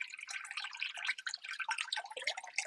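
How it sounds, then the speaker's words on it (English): Water drains and drips through strained paper pulp during homemade paper making, a steady close trickle and patter of droplets with no voices. "I would strain it, let the water go through"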